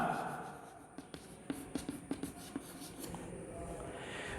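Chalk taps and scratches across a classroom board in a quick string of short, sharp strokes, faint against the quiet room with a soft hum in the background.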